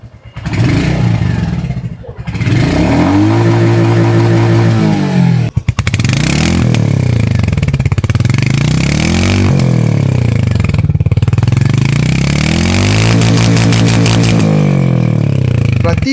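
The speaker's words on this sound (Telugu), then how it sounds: "ఒకసారి ఎగ్జాస్ట్ నోట్ విందాం." A 2026 Royal Enfield Hunter 350 motorcycle revs up close, its exhaust note rising and falling through several loud throttle blips over a steady idle, with a brief dip around the middle and no talking.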